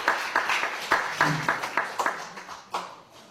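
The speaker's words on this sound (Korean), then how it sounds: "여러분 수고해주신 두 분께 정말 큰 박수 부탁드리겠습니다" Applause from the audience at a Korean literary café event, a sparse round of distinct claps with irregular rhythm that thins out and trails off toward the end, heard alone without talking.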